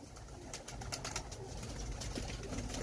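Golden bhachali pigeons at a breeder's loft in Faisalabad give soft, continuous cooing and rustling, close by and steady, with no voices.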